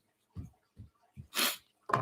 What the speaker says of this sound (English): I've got the sneezes